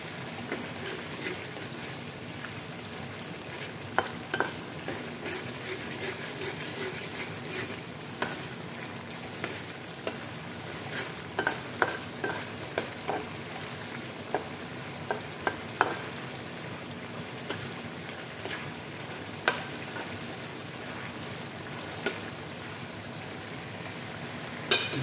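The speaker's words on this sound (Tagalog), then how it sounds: "Pagkatapos, hahaluin na natin." Sardines fry in a pan while being stirred, a continuous oily sizzle with scattered scraping clicks and taps from the utensil against the pan, close and steady for the whole stretch.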